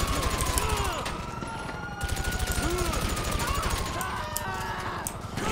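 Rapid automatic gunfire in GTA 5 Online, a steady stream of loud, evenly spaced shots running the whole time over game sounds and music.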